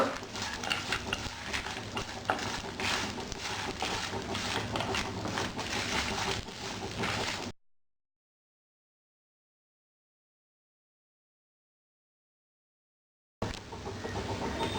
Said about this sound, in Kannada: ಮತ್ತು ಒಣಮೆಣಸಿನ್ಕಾಯಿ. ಇದು ಚೆನ್ನಾಗಿ ಹುರ್ಕೊಳ್ಳೋಣ.